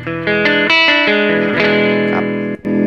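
A NUX MG-30 guitar processor running a Fender amp model rings out with sustained electric guitar chords and notes, bright and processed with reverb and a touch of drive, loud and close with no talk.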